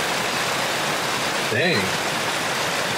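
Water rushes steadily through a small creek dam in San Pedro Creek Park, San Antonio, a loud, broad, continuous roar that fills the whole clip while someone briefly speaks over it.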